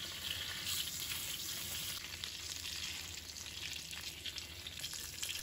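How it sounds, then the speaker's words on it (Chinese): Duck meat coated in dark soy sauce fries in hot oil in a wok over moderate heat, giving a steady, even sizzle with fine crackling throughout, fairly close and with no talking. "油热之后，把鸭肉放入锅中，火不要太大"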